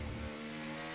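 A Formula 1 race car engine in a racing video game at the Canada circuit gives off a faint, steady droning hum, heard alone and low in the mix for under a second.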